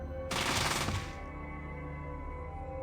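A rapid burst of 10mm submachine gun fire in the classic game Fallout, loud and close, lasting under a second before a low ambient hum carries on alone.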